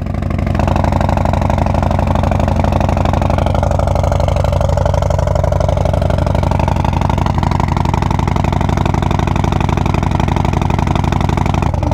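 A Harley-Davidson Road Glide fitted with an S&S 475 cam idles loud and close, a steady throbbing rumble that holds evenly throughout with no revving.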